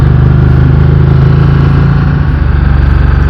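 A Ducati X-Diavel 1260 motorcycle runs up in the mountains, its loud, close engine throbbing steadily at low revs with a deep, pulsing note and no voices.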